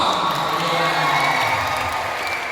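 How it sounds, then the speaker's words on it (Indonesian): Applause from a youth seminar audience for a participant, a dense, continuous wash of clapping with crowd noise and possible cheers, loud and steady. "Oke, tepuk tangan untuk orang pertama."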